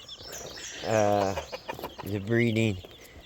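Sebright chickens cluck close by: two drawn-out, warbling calls separated by a short pause.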